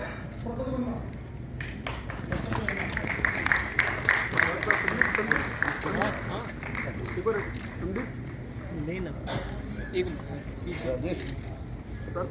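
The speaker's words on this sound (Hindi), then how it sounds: "तालियां" Audience applause at a Bhiwani community honour ceremony and folk festival, a steady wash of many hands clapping with talk and crowd voices mixed in throughout.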